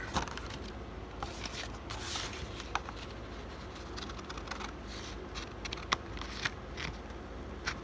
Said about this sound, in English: Then I take my scissors.